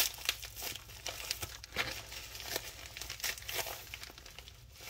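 Close crinkling and tearing of a foil Pokémon trading card pack wrapper being carefully opened, with irregular crackles and rips throughout.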